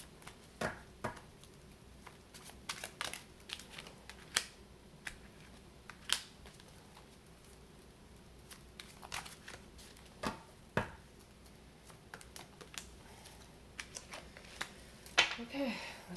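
Tarot cards shuffled and drawn by hand, a quiet sequence of soft riffling and sharp snapping flicks spread across the span, with scattered louder clicks near the end and low room noise beneath.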